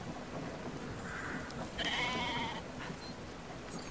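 Video game sheep bleating: a brief wavering bleat in the middle of the clip over a steady ambient game background, with a fainter call before it and no talk.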